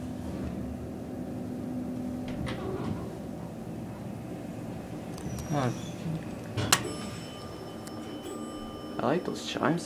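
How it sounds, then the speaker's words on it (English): Faint electronic chimes ring a few times from a Dover hydraulic elevator at a resort hotel, sounding under quiet ambient hum and a person talking nearby. "I like those chimes out there."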